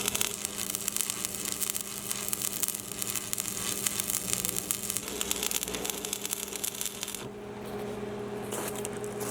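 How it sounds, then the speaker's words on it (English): Arc welding with a 7014 rod at an outdoor welding table project, a continuous crackling sizzle over a steady electrical hum with no talk. "the 7014 rod is probably the easiest rod to weld with, and that's what I'm working with right now."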